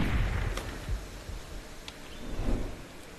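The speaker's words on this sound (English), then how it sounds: "They're using rifles, though, and shotguns." Muffled rifle and shotgun shots sound far off in the Subsistence survival game, a few dull thumps and cracks spaced irregularly over a rumbling outdoor background.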